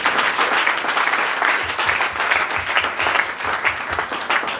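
Church congregation applauding at a Sunday worship service, a steady, dense wash of clapping that fills the room for the whole stretch without pause.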